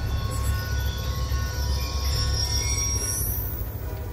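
A train rolls past in the video game Black Ops 2, with a loud, continuous rumble of rail cars and a high metallic squeal of wheels that rises near the end.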